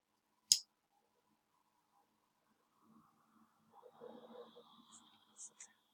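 A single sharp, close mouse click on a save button, followed by quiet, faint speech in the background.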